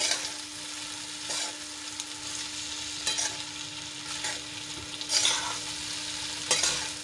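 Moong dal pulao with lemon juice being gently mixed in a pan, giving soft repeated scraping and stirring strokes with a faint sizzle, and a few louder clinks near the end.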